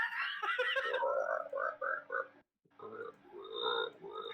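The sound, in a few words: person imitating frog croaking noises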